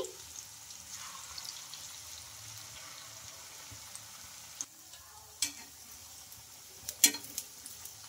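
Bottle gourd punugulu fritters fry in hot oil with a soft, steady bubbling sizzle, punctuated by a few sharp clicks and taps of a utensil near the pan.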